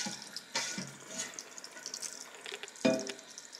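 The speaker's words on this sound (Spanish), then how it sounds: "La razón de tener el chorro de agua fría es para ayudar al agua" Hot and cold water runs from a kitchen tap over nopales being rinsed, a soft close stream with intermittent splashes and a couple of sharper knocks against the sink.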